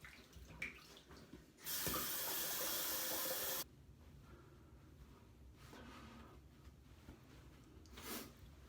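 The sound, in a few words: water running while rinsing off after a shave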